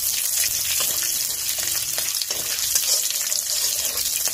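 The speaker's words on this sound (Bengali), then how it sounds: "এই যে পাঁচফোড়ন দিয়ে দিলাম। আর একটু তেজপাতা।" Panch phoron whole spices and bay leaf crackle and sizzle in hot oil in a village kitchen, a steady dense frying hiss close by with faint clinks of stirring, no talk.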